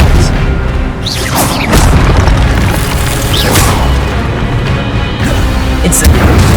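An Expelliarmus spell cast in the video game Hogwarts Legacy, with loud, dense booming blasts and crashing impacts that repeat throughout and rise over a constant roar.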